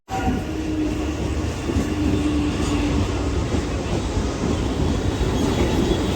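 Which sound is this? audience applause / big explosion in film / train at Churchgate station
train at Churchgate station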